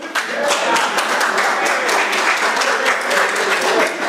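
Audience applause at a People's Alliance political speech in Blackville, steady broadband clapping from a crowd sustained for about four seconds with no talking over it.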